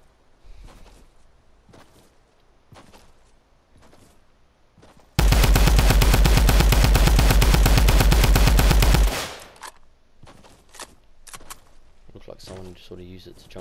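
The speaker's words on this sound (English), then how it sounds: "Let's shoot this tree down, G." Rapid automatic gunfire in a video game, used to shoot down a tree, bursts out as a loud sustained volley for about four seconds, with players talking before and after.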